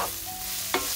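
A spoon stirs curry, paprika and garlic powder into a sizzling pan for a vegan mushroom sauce. There is a soft frying hiss and one short scrape near the end, with no talking.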